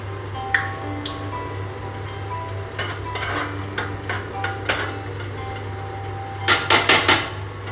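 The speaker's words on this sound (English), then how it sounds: "Just mix it." A spoon stirs spinach gravy for palak paneer in a pan, giving sparse scraping and light metallic clinks over a steady low hum, ending with a quick cluster of sharper knocks.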